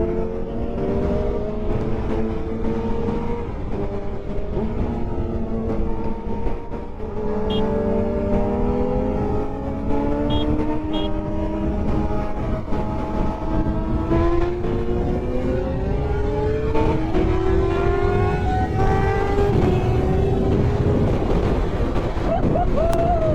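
Honda CBR600F superbike ridden at speed with a Suzuki GSX-R750 following close behind, engines rising and falling through gears in continuous sweeps, heavy wind rush over the whole ride.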